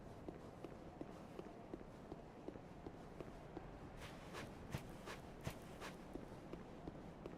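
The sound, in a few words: footsteps in the video game Dark Souls 3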